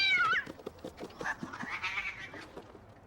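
A cat in an episode of the TV series Charmed gives a short, clear meow at the start, followed by softer bleating, whining cries against quiet background sound, close and brief.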